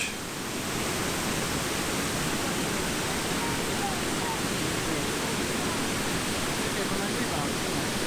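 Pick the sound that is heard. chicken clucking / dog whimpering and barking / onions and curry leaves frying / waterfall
waterfall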